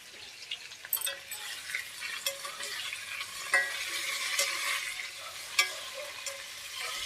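Paneer and potatoes frying in oil in a pan, a steady bright sizzle with irregular crackles and pops and occasional stirring scrapes, close and fairly loud with no talk.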